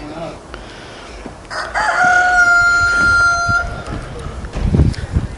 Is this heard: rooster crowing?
yes